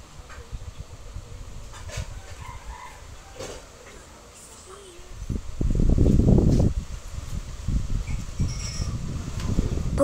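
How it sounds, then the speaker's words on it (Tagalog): Strong wind gusts outdoors, buffeting and roaring against the microphone in a loud surge midway, then continuing in rougher bursts. "Pagpasensyahan nyo na lang talaga yung may malakalakas na hangin."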